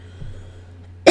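A person with a dry throat from allergies gives a single short, sharp cough up close at the very end, after a quiet stretch of room hiss.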